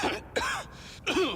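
A character in the Warhammer 40,000: Rogue Trader video game coughs and clears his throat in three rough, close bursts with short pauses between them, loud and without other speech.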